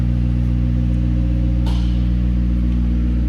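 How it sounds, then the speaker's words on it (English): A McLaren 750S Spider convertible with an aggressive exhaust idles with a steady, loud low engine drone and a constant rumble, with no clear rev rise and no voices. "Compared to the previous generation of the 720, this one has a more aggressive exhaust."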